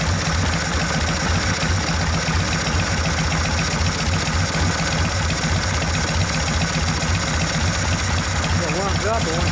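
A 1972 Harley-Davidson XL Sportster Ironhead engine, freshly rebuilt and warming up on a bobber, idles steadily with a low, loping rumble and mechanical clatter. It runs continuously and close, and a brief voice is heard near the end.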